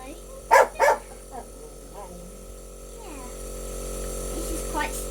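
Two sharp dog barks ring out close together early on, followed by a softer yip, then quieter sounds and faint talk in the room.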